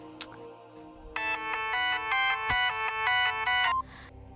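A mobile phone ringtone plays an incoming-call melody of repeated bright electronic tones, starting after a brief click and continuing steadily for a few seconds before cutting off, with no talk over it.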